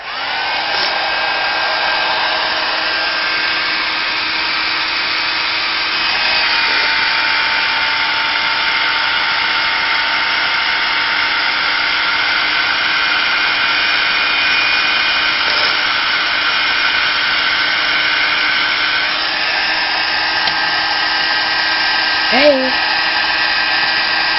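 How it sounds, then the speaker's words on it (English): A heat gun blows hot air onto a lead fishing lure, a loud continuous whirring blower hum that runs the whole time with small pitch shifts as it is moved. "it's okay to use a heat gun"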